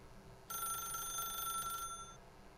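A telephone bell in the video game The Stanley Parable rings in one continuous trill of about a second and a half, clear and alone over quiet background.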